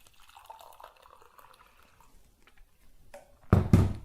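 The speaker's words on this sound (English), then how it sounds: "you pour the hot water in" Hot water pours into a cup holding a spoonful and a half of instant coffee: a faint trickle at first, then a louder, fuller splash near the end, with no talk.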